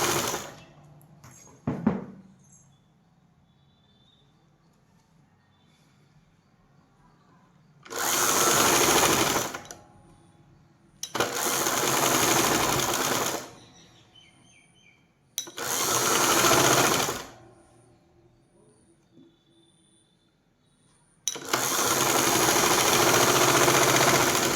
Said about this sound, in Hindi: कट को कट से मिलाते हुए हमें इसके ऊपर सिलाई लगा लेनी है।